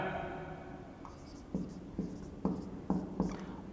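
Chalk or marker writing on a board during a chemistry lecture on electrochemistry, a series of short taps and strokes roughly every half second, fairly close and clear over a quiet room hum.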